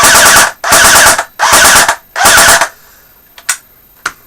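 A JG A47 electric airsoft rifle fires on full auto in four loud, rapid bursts of about half a second each, close by, followed by a few faint clicks and handling noises.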